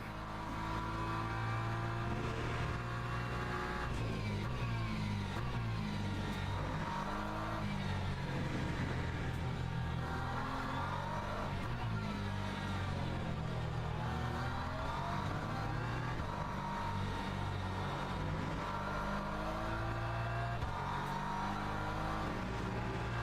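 A Porsche race car engine roars continuously in the Le Mans Ultimate racing game, loud and close, rising and falling through revs and gear changes for the whole stretch with no talking.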